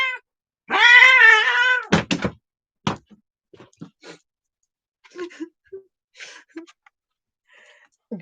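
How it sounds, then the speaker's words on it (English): A cat lets out a long, loud, drawn-out meow near the start, followed by a few shorter, fainter cries and small scuffling sounds; a person speaks briefly now and then. "I got two kitties."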